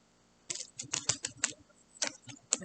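Quick, light clicking and flicking of tiny tarot cards being shuffled close up, in short irregular bursts with no talking.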